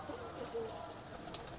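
Soft, low cooing of a pigeon, faint and a little distant over a quiet background hiss.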